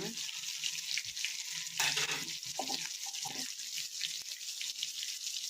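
Tomatoes cook in a pan with salt and chili powder, giving a steady frying sizzle with stirring and scraping bursts and a few brief clinks, close and alone with no talk.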